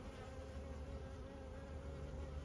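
Honey bees of a newly hived swarm buzzing inside the hive: a steady, dense, low droning hum of many bees, faint and continuous with no breaks.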